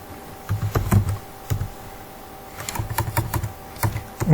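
Someone types code on a computer keyboard, with bursts of close, crisp key clicks and short pauses between runs, and no voices.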